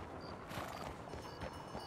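Horse hooves clip-clop at a steady walking pace in the open-world western game Red Dead Redemption 2, moderately loud over a busy, noisy game-world background with no talk.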